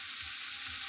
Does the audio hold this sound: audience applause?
no